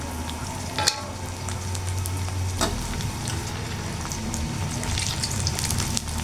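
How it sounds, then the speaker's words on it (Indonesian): Rengginang rice crackers fry in hot oil in a pan, giving a dense, steady sizzle with crackling pops throughout, close and fairly loud, and a couple of sharp clinks. "Untuk rengginang ini udah kering ya, udah siap kita goreng ya."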